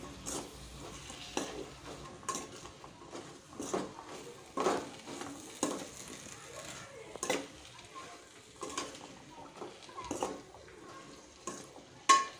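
Vegetables for Bhogi bhaji stirred in a kadhai: repeated scraping and clattering strokes of a spatula against metal, with a light sizzle underneath.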